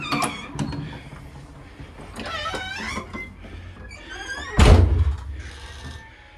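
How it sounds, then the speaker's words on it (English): A door in the Evansville Museum's Tavern Lounge exhibit is pushed open, with faint creaks and squeaks, then swings shut with a heavy thunk. Soft music plays in the background. "Push door to open."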